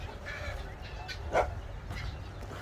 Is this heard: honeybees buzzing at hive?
no